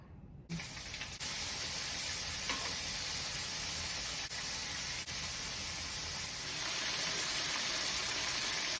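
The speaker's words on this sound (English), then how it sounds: "let's start to the frying" Braided chicken pieces drop into hot oil and set off a steady, loud crackling sizzle that holds constant after a short quiet start, with no talking.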